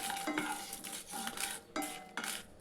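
Dry red chillies roast in a dry kadai over a medium flame for Tamil garlic thokku, giving a steady close rustle with repeated scraping stirs and light metallic clinks, no voices.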